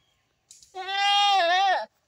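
A white goat bleats once, a single long, wavering call lasting about a second, close and clear with no other sound around it.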